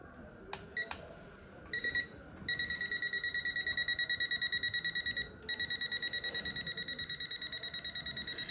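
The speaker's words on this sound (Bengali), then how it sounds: "এটা দেওয়ার সাথে সাথে যদি বিদ্যুৎ থাকে সাথে সাথে আপনার অ্যালার্ম বেজে উঠবে।" A digital voltage alert tester sounds its alarm as a rapid string of high, even electronic beeps that starts after a few clicks, pauses briefly, then resumes steadily and close up, with no talking.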